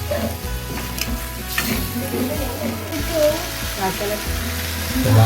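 Medium-sized prawns sizzle and fry in a pan for prawn masala, a steady crackling hiss with occasional stirring, while a person talks over the cooking.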